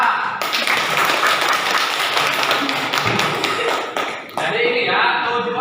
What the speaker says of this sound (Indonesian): beri tepuk tangan untuk Ara.